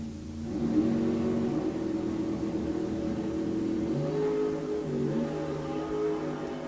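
A Dodge Dart and a Chevy 2 bracket-race at a drag strip, their engines droning and revving in a sustained, fairly close roar that rises and shifts pitch as they accelerate.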